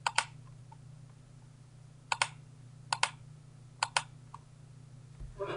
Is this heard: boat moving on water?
no